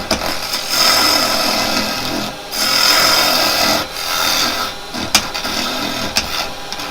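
A woodturning tool cuts into spinning wood on a lathe, making a steady, loud scraping and rasping that swells and eases across several passes, with brief pauses between cuts.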